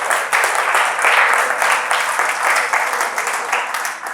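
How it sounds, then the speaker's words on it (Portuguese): Church congregation applauding the Lord during a sermon, sustained loud clapping from many hands filling the room, steady throughout with slight swells. "Você pode aplaudir ao Senhor?"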